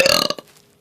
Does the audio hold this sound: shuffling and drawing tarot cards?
no